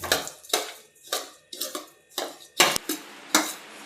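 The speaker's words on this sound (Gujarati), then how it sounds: "આપણે ટોપરું ખમણેલું લીધું છે, એ એડ કરી દઈશું એમાં અને આપણે ઘીમાં શેકી લેશું ધીમા ગેસે." Grated coconut roasting in ghee in a kadai over a low flame, heard as a steady series of about eight sharp metallic scrapes and clinks of a spatula against the pan, close and fairly loud with short pauses between.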